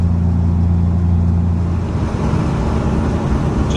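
A 1990 Ford F-150 with a swapped 460 V8 drives along in second gear, its engine droning steadily and loudly up close throughout, with a deep, even rumble and no talking.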